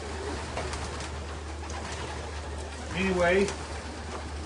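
Racing pigeons coo in a steady low murmur before being loaded for a race, and someone speaks briefly near the end over the birds.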